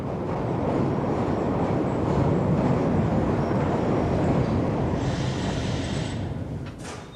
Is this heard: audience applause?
no